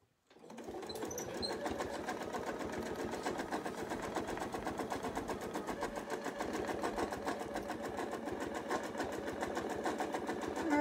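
A quilting sewing machine stitches in the ditch along a seam, starting after a brief pause and then running as a steady, fast, rhythmic whirring hum close by, with no talk over it.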